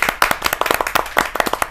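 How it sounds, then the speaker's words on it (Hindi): An audience claps briskly to welcome a poet onstage at a Hindi poetry event, loud close-up claps in a quick uneven rhythm, short and without talk. "जोरदार तालियों के साथ स्वागत"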